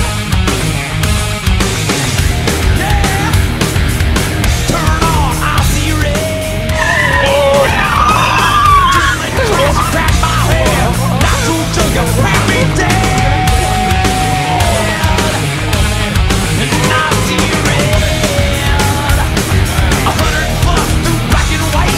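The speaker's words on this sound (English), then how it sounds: "We're going drag racing" Drag racing cars accelerating hard with loud, continuous engine roar and tire skidding, close and sustained throughout, with faint voices mixed in.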